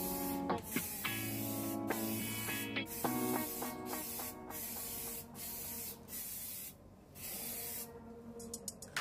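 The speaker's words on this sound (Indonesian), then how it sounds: "Di sini menggunakan cat semprot dari Samurai." Samurai spray paint hisses from an aerosol can onto the CVT cover of a Peugeot Django scooter in a series of steady bursts broken by short pauses, close and fairly loud, while faint music plays underneath.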